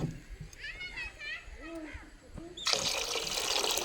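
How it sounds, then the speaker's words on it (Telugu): Water is poured into rice in a pot to make porridge, a sudden full gushing splash that starts after a few moments of voices and then continues steadily to the end. "ఇప్పుడు దీనికి సరిపడా వాటర్ వేసుకుందాం"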